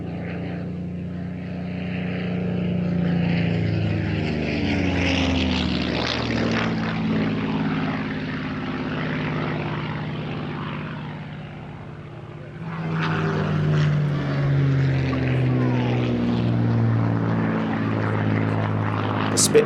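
A Spitfire propeller aircraft flies at a seaside airshow, its piston engine droning loudly with a shifting pitch as it passes. The engine fades briefly, then returns strong. Speech may run faintly underneath.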